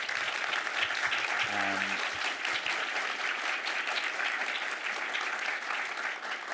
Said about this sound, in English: We'd love to get a round of applause for them.